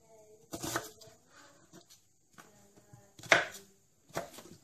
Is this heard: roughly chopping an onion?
yes